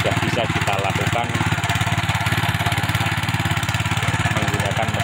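A small soil tiller engine chugs steadily while working a dry former rice field, a loud, close, even rapid putter throughout, with faint voices beneath.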